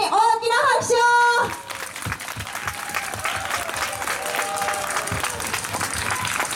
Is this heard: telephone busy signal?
no